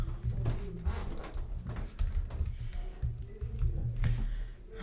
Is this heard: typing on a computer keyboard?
yes